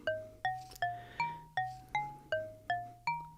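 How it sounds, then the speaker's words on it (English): A Mutable Instruments Plaits Eurorack synth module plays a glass bells patch: nine bright, evenly spaced struck tones, each with a sharp attack and ringing decay, stepping through a short melodic pattern without effects. "This is glass bells."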